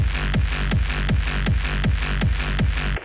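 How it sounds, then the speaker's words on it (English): Punchy hardstyle kick drum pattern with a booming reverse bass swelling between hits, steady four-on-the-floor rhythm, loud and alone. "So your usual hardstyle kick and reverse bass would sound something like"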